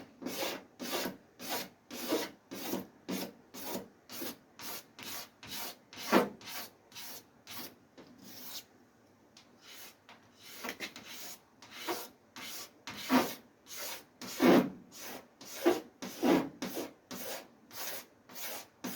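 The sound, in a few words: shaving a paint run off a Ford Escort MK1 panel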